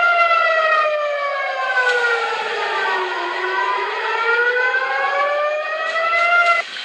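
Air raid sirens wail across Israel, several overlapping tones rising and falling together in a loud, continuous sweep with no talk over them.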